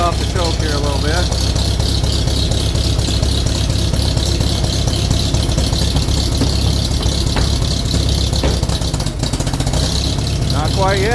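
A 1941 Farmall M tractor with 12-volt Pertronix ignition runs steadily at -8 degrees after a cold start, a loud, continuous low idle with uneven chugging throughout, in cold outdoor air.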